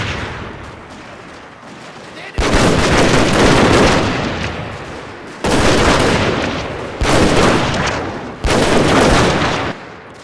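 Heavy battle gunfire from the video game Fall of the Samurai: loud, dense bursts of volleys and booming shots come in several long waves, each cutting off abruptly, with quieter rumbling stretches between them.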